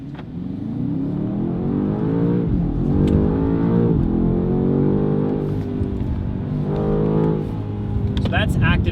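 A BMW G90 M5 fitted with a Valvetronic Designs valved sport exhaust, active sound switched on, revs up and down in several rising and falling sweeps, loud and close with a deep, booming drone.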